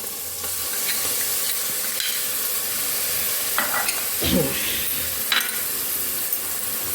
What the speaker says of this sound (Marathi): कढीपत्ता घालायचं। लसूण, आलं, मिरचीचा ठेचा घालत आहे।